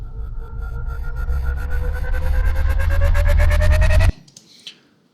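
A cinematic riser builds for about four seconds, with rising tonal sweeps over a heavy low rumble, then stops sharply and leaves faint glitchy after-sounds.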